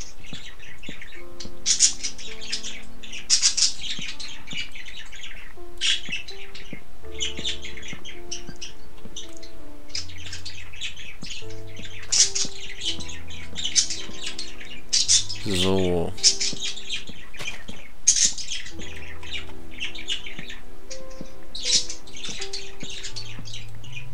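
Birds chirp and squawk in Minecraft, a busy continuous chatter of short calls throughout, with other brief game sounds mixed in and no talk over it.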